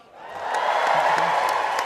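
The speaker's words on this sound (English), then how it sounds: "Don't clap, Simon, don't clap." A stand-up comedy audience breaks into applause and cheering, clapping swelling quickly from quiet to a full, dense round that holds steady for nearly two seconds, with a few whoops over it.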